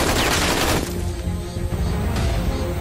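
Gunfire in a Chinese war film: continuous, dense, loud broadband roar of massed shooting and blasts, shifting slightly in intensity across the whole stretch, with no clear speech.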